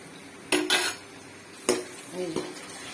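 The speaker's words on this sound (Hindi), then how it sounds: "ये हमारा हाफ kg इसमें चला गया जी गोश्त" Half a kilo of minced mutton drops into a pot for a bitter gourd keema curry, giving a few sharp metal clatters and a scrape of utensil against pan, with a faint sizzle underneath.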